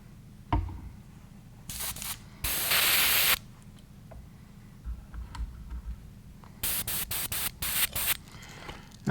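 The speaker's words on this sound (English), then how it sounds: "The next color I want to add to the airbrush is a pearlized pineapple from" An airbrush sprays Createx pearlized pineapple paint onto lure blanks for a golden shiner pattern: repeated short, close hissing bursts of varying length, including one longer steady blast and a quick rapid series near the end.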